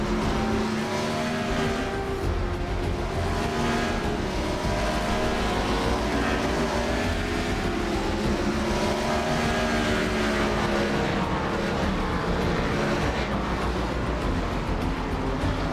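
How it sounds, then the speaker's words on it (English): NASCAR Busch Series race cars at IRP run back on track, their engines a loud, sustained, rising and falling roar with overlapping passes and a steady rumble throughout, with no talk. "IRP, you hear them. Cars back on track."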